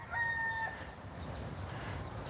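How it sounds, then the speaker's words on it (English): A rooster crows once in the distance on Oahu, Hawaii, a short, clear call over a murmur of background farmyard noise. "Some other rooster over there"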